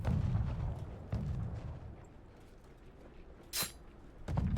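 Mortar shelling in the video game Conqueror's Blade, with heavy low rumbling blasts at the start and end, a sharp crack in the middle and quieter gaps between. No speech.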